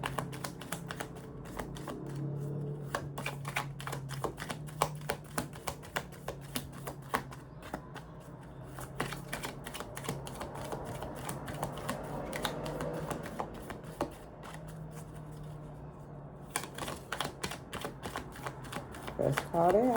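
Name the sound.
tarot cards being shuffled and drawn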